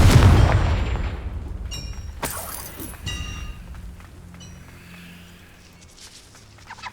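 Confringo fire spells exploding in the Hogwarts Legacy video game: a loud blast opens, followed by sharp cracking impacts and crackle that fade into a low rumbling tail, with no voices.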